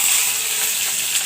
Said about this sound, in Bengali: এখন আমি মরিচগুলো ভেজে নেব।